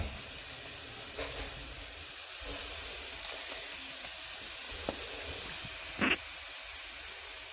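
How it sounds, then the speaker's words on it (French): Minced meat sizzles in a hot pan with a steady, fairly quiet hiss, broken by a few brief clinks and scrapes. "on va rajouter la viande hachée"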